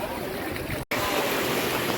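Sea waves surge and wash around Shivlings at a seaside temple, a steady broadband rush of water and wind that holds throughout, with one brief dropout near the middle.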